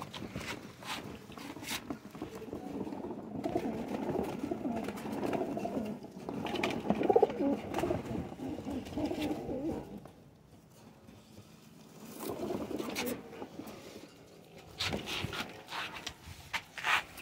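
Pigeons coo in low, throaty bursts on a rooftop loft, with soft rustling and faint wing and shuffling noises around them and a quieter lull partway through.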